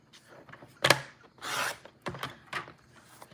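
Paper squares are trimmed for a handmade card, giving a few short, close rasping cuts and rubbing swipes separated by brief pauses.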